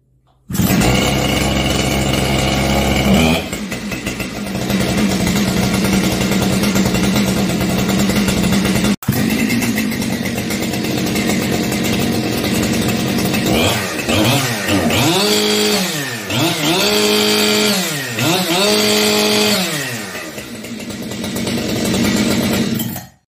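A Husqvarna 592XP chainsaw starts with a loud roar and runs steadily near the listener, then is revved hard in a series of rising and falling bursts before it cuts off at the end.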